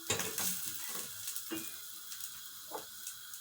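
Ingredients for kısır sauté in a pan with a continuous bright sizzling hiss, broken by a few soft scraping stir strokes, heard close with no talking.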